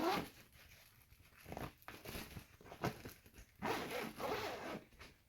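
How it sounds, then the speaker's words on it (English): The zipper of an NZ Home XXL insulated cooler bag is drawn open and closed several times in bursts, close by, with crinkling fabric rustle between pulls. "I'll try out the zipper and see how that feels."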